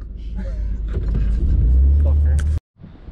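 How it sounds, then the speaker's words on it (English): A Yamaha R1 sportbike with its exhaust baffles removed rumbles loudly up close, its deep exhaust swelling into a heavy rev before cutting off abruptly, while people talk over it. "pull the exhaust off something, you gotta crank it up"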